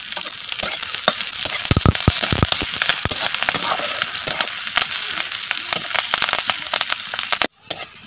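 Onions frying in a pan in a village kitchen, a steady close sizzle with crackling pops and occasional stirring scrapes, continuous throughout before a brief cut near the end.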